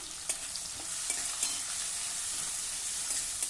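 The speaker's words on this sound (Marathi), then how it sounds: "मिक्स करू" Ivy gourd, turmeric and salt being stirred in a pan, with a spoon scraping and tapping a few times over a steady background sizzle.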